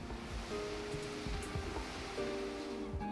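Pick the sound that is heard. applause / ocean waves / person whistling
ocean waves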